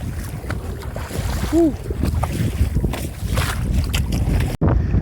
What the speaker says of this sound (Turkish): Çok dalgalı hava ve rüzgarlı.